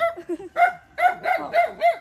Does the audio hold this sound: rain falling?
no